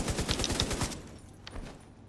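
An M60 light machine gun fires in The Division 2, a loud rapid burst of about seven shots that stops abruptly, followed by a quieter tail and a faint click.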